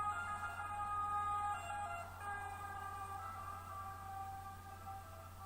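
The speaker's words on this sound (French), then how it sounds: "Quand l'ambulance se rapproche, le son de la sirène paraît plus aigu à l'observateur." A wailing ambulance siren passes at a distance over a low steady hum, its tone holding then dipping slightly with the Doppler effect as it fades.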